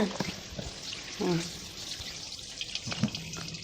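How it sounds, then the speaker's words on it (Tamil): Ration rice is washed by hand in water for murukku, with soft sloshing, swishing and dripping close by, along with faint clinks and brief background voices. "ரேஷன் அரிசினால கழுவணும்ல"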